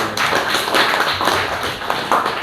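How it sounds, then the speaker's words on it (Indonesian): Schoolchildren in an Indonesian classroom clap for a classmate named Prisil, a brisk, close, continuous patter of many hands lasting a couple of seconds. "Tepuk tangan buat Prisil"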